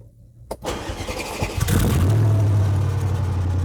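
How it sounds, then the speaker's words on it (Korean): A Mercedes SL55 AMG starting up after a battery replacement: a click and a brief starter crank, then the engine catches and settles into a loud, steady, deep idle close by. "네, 시동 잘 걸리네요."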